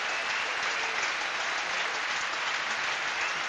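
Prolonged applause from the tennis crowd at Roland Garros during the 1995 fourth-round match between Chang and Stich, a dense, steady wash of clapping that holds at an even level throughout.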